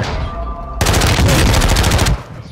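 Rapid automatic gunfire in Call of Duty: Modern Warfare II, a loud close burst of fast repeated shots lasting over a second, abruptly starting and stopping.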